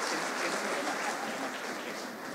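A concert audience applauds a performer being introduced at Gran Concierto de Gazcue, a steady wash of clapping from many hands that holds throughout and tapers slightly at the end.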